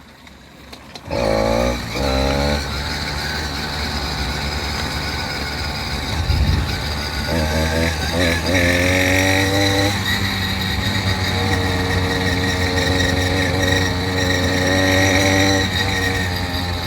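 A small motorized bicycle engine is started after a moment of near silence, then runs steadily up close, its buzzing note climbing and settling as it revs.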